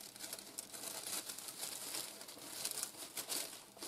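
Thin plastic bag crinkling steadily as it is pressed down over houseplant soil, close and continuous with brighter rustling bursts, no talk.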